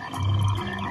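A frog gives one short low croak in the Adventureland Treehouse at Disneyland, close and clear against a soft background hum.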